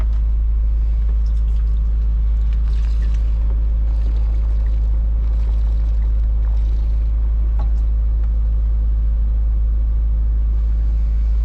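A truck engine idles steadily after an idle set screw adjustment, with a loud, constant low rumble running unbroken throughout.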